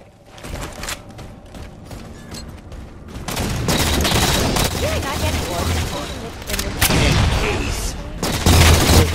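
Scattershot fire in Halo 4 Capture the Flag, rapid bursts and booming blasts building to loud, dense volleys with players talking throughout.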